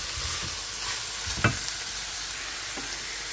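Onion is added to a pan for shepherd's pie, giving a soft, close sizzle with light stirring scrapes and a brief clatter midway, quiet and without talk.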